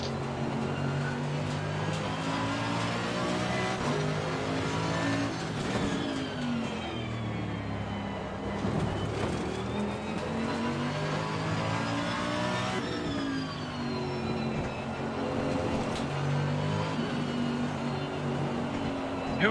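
An Audi race car revs and shifts through the corners of the Hungaroring in Assetto Corsa Competizione during an online community race, engine tone rising and falling continuously over twenty seconds with faint commentary underneath.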